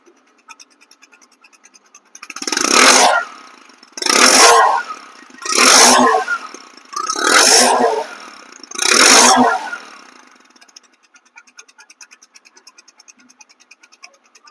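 A Discover 100cc motorcycle engine in showroom condition gives five evenly spaced throttle blips, each rising and falling, with a quiet ticking idle before and after.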